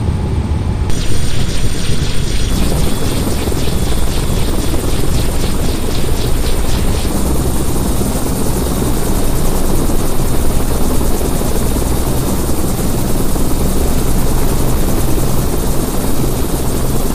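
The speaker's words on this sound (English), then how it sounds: "Your helicopter's waiting right outside there, General." Helicopter rotor and engine roar loud and steady throughout, a dense continuous thumping wash that stays close and unbroken for the whole stretch.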